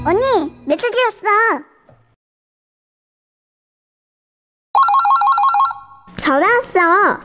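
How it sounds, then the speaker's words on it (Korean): A cute Korean phone ringtone plays, with steady electronic ringing tones for about a second and a half after a gap of silence. High, playful voice clips come before and after it. "전화 왔어. 속았지?"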